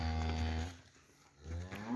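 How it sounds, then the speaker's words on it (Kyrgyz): Angus cattle on a Kyrgyz breeding farm give two loud, close moos separated by a short pause, with no talking. "Таза Ангус."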